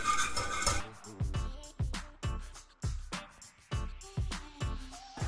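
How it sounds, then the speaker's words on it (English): A whisk clinks rhythmically against a metal pan while stirring a garlicky cheese sauce for game-day nachos, a brief splash of sizzle first, then about ten sharp, evenly spaced metallic strokes, close and alone. "Whisk that together"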